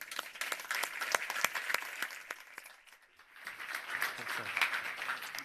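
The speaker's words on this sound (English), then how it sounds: "can I welcome to the stage with a round of applause, Omar Abbosh." A conference audience gives a round of applause welcoming a speaker to the stage, crisp claps at first, briefly dipping and then swelling again into steady clapping, moderately distant in a large hall.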